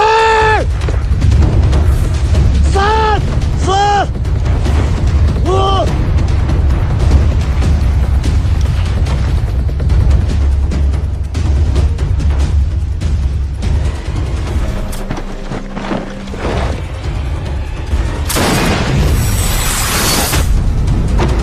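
Combat scenes from a sniper war film: repeated sharp shots and heavy booms, with whistling tones early on and a bright crashing burst near the end, over a continuous rumbling battle backdrop.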